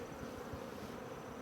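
Honey bees buzzing at a hive entrance at Amis Mill, a steady, continuous drone of many insects close by, fairly faint and with no voices.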